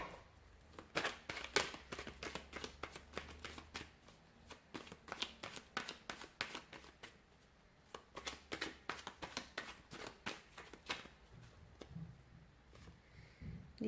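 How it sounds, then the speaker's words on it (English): A deck of tarot cards is shuffled close up in quiet, rapid bursts of crisp riffling snaps, separated by brief pauses. "we'll give the cards a shuffle"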